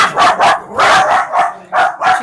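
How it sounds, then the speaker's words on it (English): Several dogs bark in short, loud bursts close by, about five sharp barks in a little over two seconds, with no talk over them. "Excuse my dogs."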